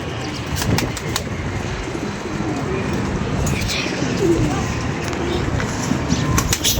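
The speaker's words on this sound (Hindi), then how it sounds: "सारे कबूतर माशाल्लाह से।" A flock of pigeons gathered in the open on a breezy day, soft cooing heard faintly beneath steady wind noise and occasional rustles, with a few brief flutters.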